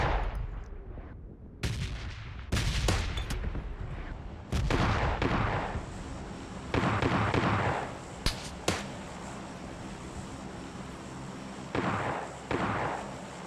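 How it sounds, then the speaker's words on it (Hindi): Kar 98 bolt-action rifle shots ring out in a video game: several sharp, loud reports spaced irregularly several seconds apart, some near and some more distant, over a low background of game ambience. "फिर तभी देखो कोई Kar 98 से हेडशॉट खेलता है"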